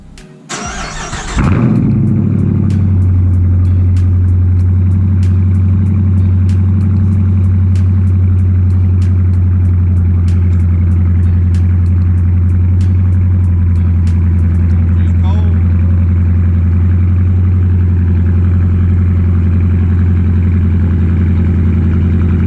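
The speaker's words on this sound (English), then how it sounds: "before this video starts, we can get a nice cold start in" A muscle car engine starts from cold with a brief crank and catch, then settles into a loud, steady, rumbling idle that holds nearly unchanged for about twenty seconds.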